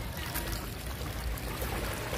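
Waves wash steadily at Golden Beach in Tuen Mun, Hong Kong, a continuous broadband rush of surf and moving water, close and fairly loud, with no pause across the moment.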